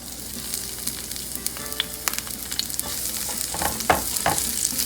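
Onions sauté in hot oil in a pan, a steady sizzle with the scrape and clatter of stirring throughout, close and continuous with no talking.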